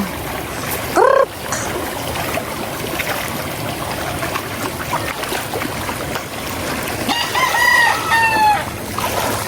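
Chickens cluck close by as a rooster crows nearby in a short, loud burst early on, followed later by more rising crowing calls over a busy background of scattered clucks and trickling sounds.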